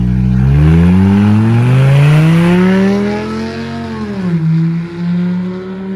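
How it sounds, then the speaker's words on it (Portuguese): Modified Volkswagen Jetta with a straight-pipe exhaust revs hard, a loud, raw engine drone climbing in pitch, holding high, then dropping and rising again as it pulls past close by. "Nossa, que barulho bonito, hein?"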